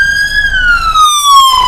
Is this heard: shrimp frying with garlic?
no